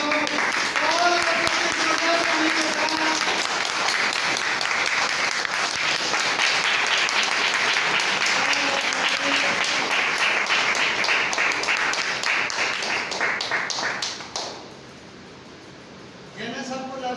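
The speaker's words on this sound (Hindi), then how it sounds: "जोरदार ताली के साथ" A large audience claps loudly and continuously at a gathering with a school principal present. The sustained applause fades out near the end, leaving a short lull before a brief final burst.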